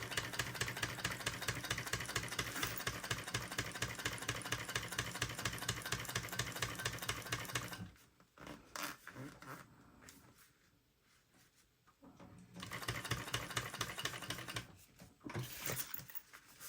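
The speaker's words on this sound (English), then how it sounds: "you're going to needle down, pivot, and then sew across the bottom" A sewing machine stitches across the bottom of a fabric bag, a rapid, steady mechanical chatter up close that stops midway for a pause, then resumes in shorter runs.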